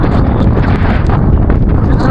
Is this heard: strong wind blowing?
yes